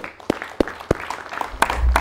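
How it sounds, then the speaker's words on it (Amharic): Clapping for a group of young competitors at an event: a few separate sharp claps at first, then a denser, louder burst of applause building toward the end. "ለራሳችሁ ጭብጨባ"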